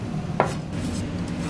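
A single sharp knife chop on a cutting board while preparing an ingredient for black rice payesh, a lone close thud over a low steady kitchen hum.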